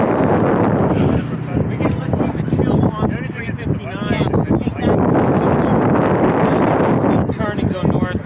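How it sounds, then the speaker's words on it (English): Strong, gusting wind roars and buffets the microphone continuously outdoors, a loud broadband rush that nearly masks a voice talking through it. "That wind was crazy."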